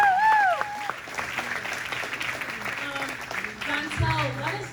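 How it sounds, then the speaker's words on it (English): An audience claps at a live panel event with actors and directors, a steady wash of applause mixed with cheering voices and a speaker talking over it. "So clap it up."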